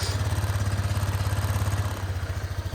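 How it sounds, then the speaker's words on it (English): A motorcycle powered through a battery and inverter starting up, giving a steady rapid pulsing engine-like throb close by, slightly changing in pitch near the end. "that's turning on the bike"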